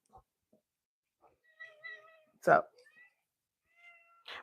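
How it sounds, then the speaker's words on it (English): A domestic cat meows a few times indoors, soft drawn-out calls in short bursts, interrupted by a brief word of speech from a person in the room. "That's our cat trying to be in a video."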